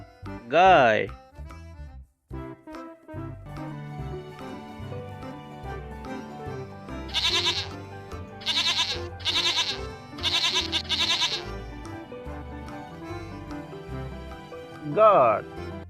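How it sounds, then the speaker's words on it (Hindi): A goat bleats in several short, wavering calls, first a single bleat, then a quick run of them, with one more near the end, all set against continuous background music. "goat"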